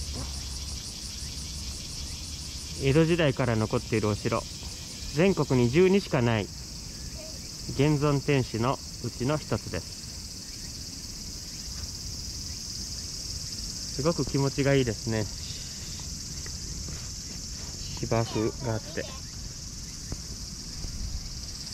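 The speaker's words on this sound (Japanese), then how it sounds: "セミが鳴いて。" Cicadas on the grounds of Uwajima Castle, an Edo-period original keep, keep up a constant high buzzing drone while someone talks in several short bursts over it.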